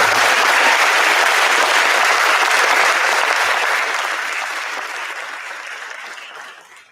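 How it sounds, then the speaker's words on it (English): Loud, dense applause from a large audience fills the room, sustained for several seconds before gradually tapering off. "please give a big round of applause for me."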